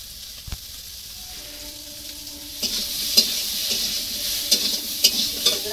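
Potatoes are stirred in a sizzling pan in a village kitchen, with quiet scraping at first, then louder frying hiss and several sharp clinks of the spatula against the pan. No one speaks.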